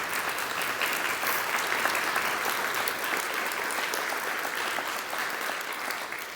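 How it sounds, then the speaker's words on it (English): Steady, dense applause from an audience at an awards dinner honoring a Hall of Fame inductee, sustained and fairly loud throughout with no pauses and no talk over it. "you can applaud"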